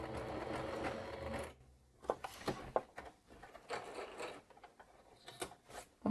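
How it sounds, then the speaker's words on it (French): A domestic sewing machine runs a zigzag stitch along the edge of fabric for a zippered sports bag: a steady mechanical whir for about a second and a half, then short, irregular bursts of stitching and clicks, close and moderately quiet. "vous sélectionnez votre point zigzag et vous allez voir que vous faites votre point zigzag au bord"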